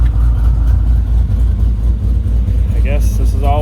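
A cammed 6.4 Hemi engine runs with a steady, loud low rumble throughout, holding a fairly even idle-like drone, with a few brief voice-like sounds near the end.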